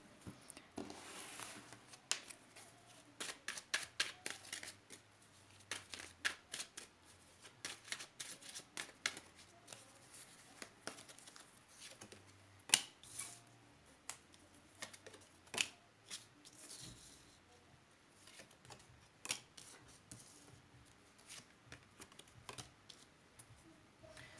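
Tarot cards handled and stacked into a tower during a reading, giving a run of soft, quick papery clicks and taps at close range, irregular and fairly quiet, with no voices.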